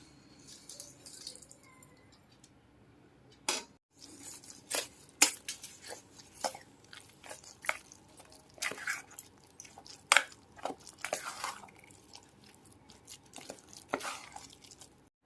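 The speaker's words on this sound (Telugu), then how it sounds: "ఈ పచ్చట్లో పోపు అంతా శుభ్రంగా కలిపేసుకున్నామండి" Coconut moong dal chutney being mixed with its tempering, giving sharp scattered clicks and scrapes of a spoon against a bowl, close and fairly quiet, in irregular bursts with pauses.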